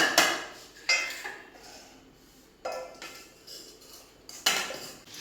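Roasted urad dal is tipped and tapped from a pan into a vessel, giving several distinct metallic clanks and rattling scrapes in short bursts, close and fairly loud with quiet gaps between.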